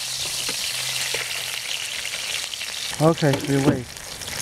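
Cod fillets frying in a pan give a steady, close sizzle throughout, with a voice speaking briefly over it near the end.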